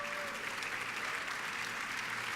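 Applause fills a church congregation as the worshippers give a loud ovation, a dense, steady wash of many hands clapping throughout, with no speech over it.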